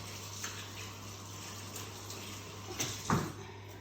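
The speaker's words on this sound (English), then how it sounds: "And just wash my hands quickly." Running tap water splashes steadily as hands are washed under a kitchen faucet, a soft continuous rush with a couple of brief louder splashes near the end.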